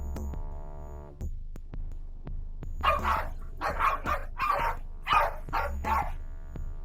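Several Jack Russell terriers bark in a chicken coop at a snake, a burst of sharp overlapping barks repeating in quick succession over a low background hum, close and loud.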